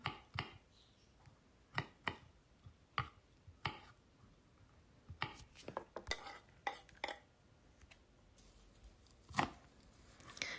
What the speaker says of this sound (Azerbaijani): Bunu da xırda-xırda doğrayıram.